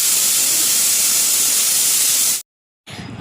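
Loud, steady hiss of steam from a pot of soaked pulses set to boil, cutting off abruptly into a brief silence and then resuming more faintly.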